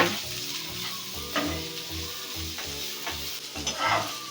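Chopped onion and green chilli sizzle in hot oil while being stirred for a chole chaat, giving a steady crackling hiss with occasional scrapes, accompanied by background music.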